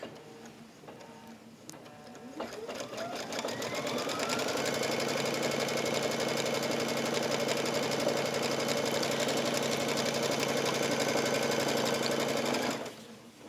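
A sewing machine stitching a border strip onto a pillow, starting after a few soft clicks, revving up and then running at a steady rapid whirring stitch for about nine seconds before stopping abruptly.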